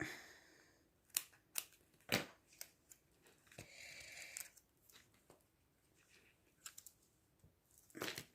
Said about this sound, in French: On coupe l'excédent.